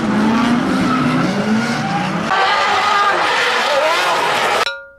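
Two drift cars running in tandem in a demo in front of a crowd, engines roaring and tires squealing loudly and continuously before the sound cuts off abruptly near the end.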